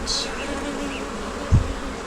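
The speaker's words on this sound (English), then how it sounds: "Be careful, try not to get bees over the barrier." Honey bees buzz around a frame from a poly nuc hive split, making a continuous close hum with individual bees passing near, plus one brief low thump midway.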